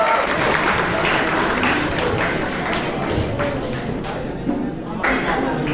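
An audience applauds for a certificate recipient at a university event. The clapping is steady and moderately loud and blends with background voices for the whole stretch.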